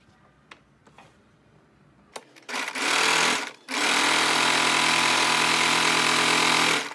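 Sewing machine stitching a fabric sleeve with a half-inch seam margin: a few faint handling taps, then the motor starts and runs in a loud, steady, rapid hum with one brief pause before continuing.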